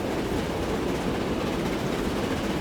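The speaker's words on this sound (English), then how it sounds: "I can definitely hear another train." A train in the Transport Fever 2 video game rumbles past close up, a dense continuous roar of wheels and rolling noise at steady loudness with no talking.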